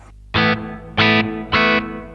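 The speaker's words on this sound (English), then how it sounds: "You can now control the reverb time here with your foot." Marshall RF-1 Reflector reverb pedal on its hall setting, heard as three loud, evenly spaced guitar chord stabs, each cut short with a brief wash of reverb behind it, no voices.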